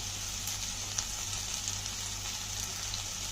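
Dried shrimp and egg fry in a pan on a low flame, giving a steady, soft sizzle with faint crackles throughout.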